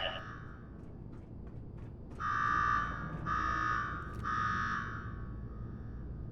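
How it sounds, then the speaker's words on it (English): An alarm blares in Nuka World in the video game Fallout 4, three long buzzing blasts in a row over a low ambient rumble, loud and harsh with brief pauses between them. "Now go shut off that damn alarm."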